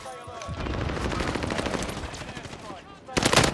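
Rapid gunfire in a video game, a fast rattling stream of shots under and between voices, ending in a louder close burst.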